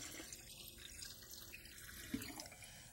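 Water pouring into an empty home canning pot set on a stove burner, a quiet continuous running-tap splash lasting a few seconds with one small clunk near the end.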